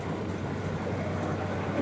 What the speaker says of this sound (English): There it is, the train